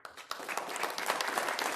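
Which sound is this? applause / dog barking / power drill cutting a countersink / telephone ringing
applause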